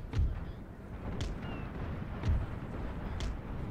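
Musket volleys and artillery fire in a Napoleon Total War battle rumble in the distance as a low, continuous roar, with a few duller booms and cracks breaking through the din.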